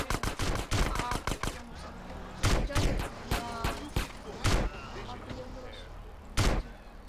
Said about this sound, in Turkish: Aha tüfek. Bu tüfek çok iyi.